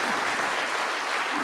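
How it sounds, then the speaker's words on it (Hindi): Steady applause from an audience at a Hindi poetry recital (kavi sammelan), a dense continuous clatter of clapping hands filling the room throughout. "बजा दो यार ताली।"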